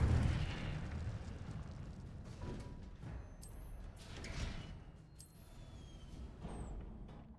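An Incendio fire spell is cast in Hogwarts Legacy, a low rumbling fiery burst that swells and fades, with short bright magical chimes flickering over it.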